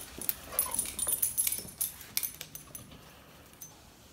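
A young dog sniffs and whimpers close by, with quick snuffling breaths and soft high whines, plus light jingling like tags or keys, fading toward the end.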